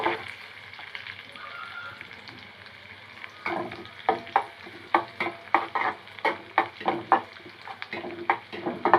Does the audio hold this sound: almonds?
yes